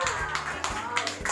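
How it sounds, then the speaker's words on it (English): At a children's birthday party magic show, a few people clap their hands in a quick uneven burst of sharp claps, fairly faint, with a voice mixed in. "Clap your hands."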